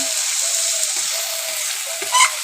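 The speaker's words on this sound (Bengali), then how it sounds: "এই তেল দিয়ে এখন আমরা কষিয়ে নিব" Spices sizzle steadily in a little hot frying oil for a home-style chicken curry, a close, even hiss with a few faint stirring scrapes and no talk.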